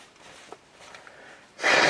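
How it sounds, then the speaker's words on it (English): A person blows their nose hard into a towel, a loud, wet, sustained blast coming at the very end after a quiet stretch with faint sniffs. "Blow my nose."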